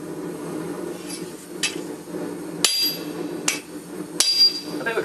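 Light hammer blows on hot steel while forging a traditional Japanese wakizashi short sword, a handful of sharp, widely spaced metallic strikes ringing over a steady forge roar.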